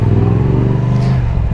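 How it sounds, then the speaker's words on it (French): Yamaha R7 motorcycle engine revved high, a loud close steady drone with strong low rumble and a thin mechanical rasp, holding without a break for the full moment. "je me suis permis de donner des petits coups de gaz, de monter haut dans les tours"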